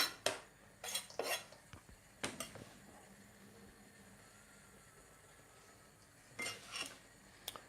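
Chopped onion and carrot tumble into a pan with a few clattering knocks of utensil against metal, then a stretch of quiet before more clinks, close and soft.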